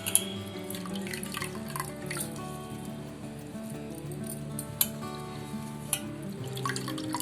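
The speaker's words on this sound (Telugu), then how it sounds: "ఇప్పుడు దీన్ని నీళ్ళు లేకుండా ఇట్లా నీళ్ళు వడగట్టేసేసి ఇట్లా ఒక బౌల్లో పెట్టుకోవాలి." Soaked flattened rice being strained of water, with a soft continuous trickle and scattered light drips, quiet and close.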